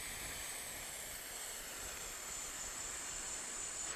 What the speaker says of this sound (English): it might make a little hissing sound because it's a smaller hole